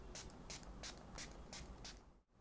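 Faces Canada makeup setting spray pumped in six quick, evenly spaced hissing bursts, close and faint, with quiet pauses between each spritz.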